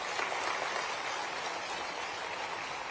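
An audience applauding at a regional industry conclave in Rewa, with continuous, even clapping from a large crowd that fills the whole moment.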